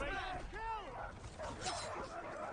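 War dogs in the medieval battle game Conqueror's Blade bark and yip in short bursts amid a busy battlefield din, with a voice talking over them.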